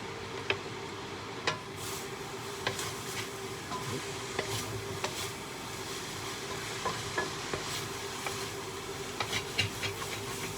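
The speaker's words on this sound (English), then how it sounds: "Yeah, I'm going to stir my carrots." Carrots frying in a pan give a steady close sizzle and hiss, broken by irregular scraping clicks and taps as they are stirred, with no voices.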